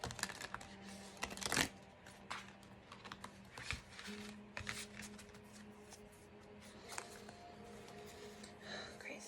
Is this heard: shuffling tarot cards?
yes